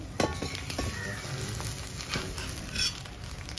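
Maggi noodles spread over a cooking omelette in a pan, giving a soft, steady sizzle with light scraping and patter of a spatula against the pan, close and continuous with no voices.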